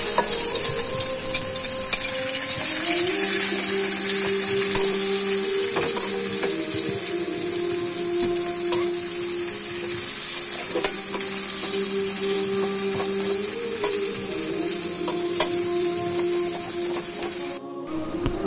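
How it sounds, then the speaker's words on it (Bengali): Sliced onions sizzle in hot oil left over from frying fish, a bright constant hiss with scraping stirring strokes repeating under it, close to the pan, for a sour leaf fish curry. "ওই তেলে পেঁয়াজ কাটা ঢেলে নাড়তে থাকি"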